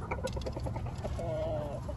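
A breeding hen clucks in short, soft bursts close by, with a brief drawn-out call near the middle over a low background hum.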